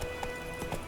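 Horse hooves thud in a quick galloping rhythm in The Witcher 3: Wild Hunt, several soft clip-clop beats within under a second over a low ambient bed.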